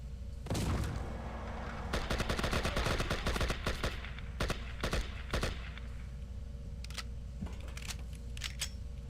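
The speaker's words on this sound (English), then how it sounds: "And then pull out the AK." Rapid AK rifle fire in a video game, bursts of loud cracking shots crowding the middle of the stretch, then scattered single reports and a steady game hum beneath.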